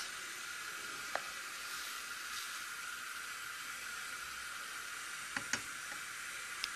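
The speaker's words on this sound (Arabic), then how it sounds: "نضيف كمية من المعدنوس ونقلي هاد المواد هكذا مع بعض" Meat and parsley frying together in a pan, a steady soft sizzle and hiss with a few faint clinks, fairly quiet, no speech.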